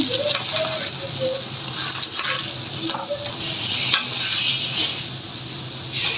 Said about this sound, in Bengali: আর এগুলি ভাজা প্রায় হয়ে গেছে